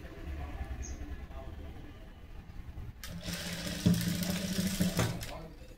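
Sewing machine stitching a one-dart blouse in a tailoring class, a faint hum at first, then a louder buzzing run of stitches in the second half, close by and mixed with soft background noise.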